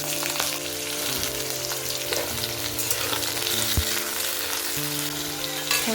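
Bay leaves sizzle in hot oil in a pan, a dense, steady frying hiss with occasional pops and a soft clunk, close and without voices.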